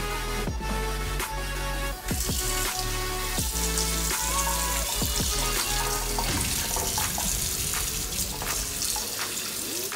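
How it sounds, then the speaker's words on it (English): Tap water running into a sink while a scaled rainbow trout is rinsed under it, a steady close splash broken by clattering handling sounds. "I now have to wash it so any loose scales come off."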